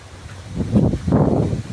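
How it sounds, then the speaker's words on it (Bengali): Strong wind gusts buffet the microphone beside a river during a storm, with a low, roaring rumble that swells in two loud surges and no one speaking. "আজকে এত পরিমাণে যে বাতাস হইতাছে, নদীর অবস্থা খুবই ভয়াবহ।"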